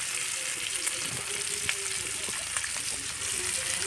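Spicy fish pieces fry in oil over a wood fire, a continuous close sizzle with occasional small pops and crackles, heard alone.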